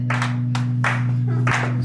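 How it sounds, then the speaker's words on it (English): Slow, sarcastic clapping sounds as four spaced claps at an even, deliberate pace over a steady low hum. "I heard a slow clap in the background."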